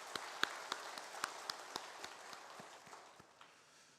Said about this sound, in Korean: 다시 한번 박수하도록 하죠